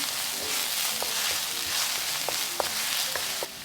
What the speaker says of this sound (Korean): 예열팬에 기름을 넉넉히 둘러주고 다진 마늘 넣어 빠르게 볶아주세요